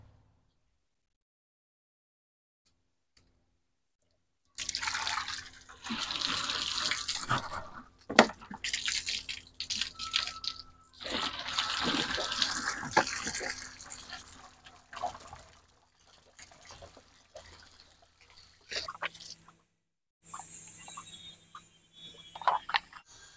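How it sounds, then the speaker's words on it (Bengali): Water is drawn from the tap of a household water filter, a steady liquid pour and trickle that starts after several seconds of silence, running in bursts with brief pauses and a few drips near the end. "তো আমি এখন এখান থেকে জল ভরে নেব"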